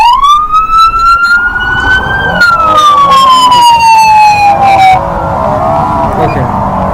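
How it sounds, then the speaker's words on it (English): A Roblox emergency vehicle's whale siren swells in a long slow rise, then glides gradually downward in one drawn-out moaning tone, loud and close over rumbling game noise that continues after the siren fades. "if I hold this down, I can unlock the whale siren"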